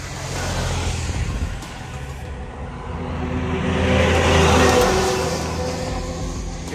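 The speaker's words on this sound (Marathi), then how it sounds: "अरे अरे अरे, वाहन आलं." A vehicle passes along a rural road beside sugarcane fields in the monsoon, a steady engine and tyre rumble that swells to a peak as it goes by and then fades.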